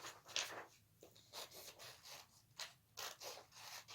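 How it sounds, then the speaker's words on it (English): Scissors snip through paper while cutting out an Easter lily shape for a Sunday school craft, heard as a series of short, close, crisp bursts with quiet gaps between the cuts. "now I'm going to cut it out with my scissors"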